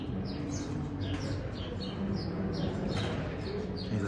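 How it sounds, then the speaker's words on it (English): Several small birds chirp and tweet in short, high bursts at a moderate distance, repeating every half second or so over a steady low outdoor rumble. "Can you hear the other birds chirping?"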